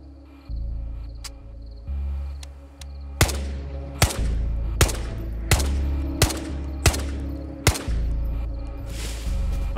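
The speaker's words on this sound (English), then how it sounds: "More gunshots?" Gunfire in the Ghosts of Tabor video game: a series of about eight sharp, loud single shots at fairly regular intervals, each with a short decay, over a low steady background hum and insect-like chirping.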